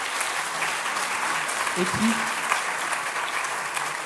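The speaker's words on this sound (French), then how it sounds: "on peut l'applaudir peut-être" An audience at a health-studies outreach ceremony applauds a student, a steady, continuous round of clapping from many people, with a brief spoken voice underneath it.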